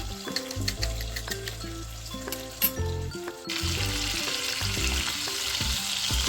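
Beef is stir-fried with seasoning and sugar for fried beef with egg rice, making a steady sizzle that grows louder and fuller halfway through, under continuous background music.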